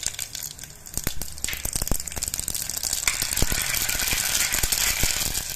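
Mustard seeds spluttering in hot oil for a citron pachadi (narthangai gojju), a dense run of sharp crackles and pops building steadily over the seconds, close and fairly loud with no voices.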